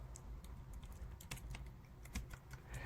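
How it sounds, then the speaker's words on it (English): Computer keyboard keys are pressed up and down in a quiet, irregular run of soft clicks and taps, with no voices. "You can see that's me on my keyboard. I'm pressing the button up and down."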